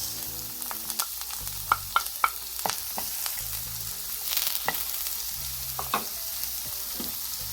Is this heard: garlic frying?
yes